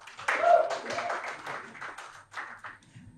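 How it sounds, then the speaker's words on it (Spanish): Sparse clapping from a small audience at a youth internet governance forum panel, a few scattered hand claps rising briefly and then thinning out into quiet. "Un aplauso, por favor."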